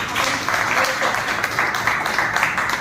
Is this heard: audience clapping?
yes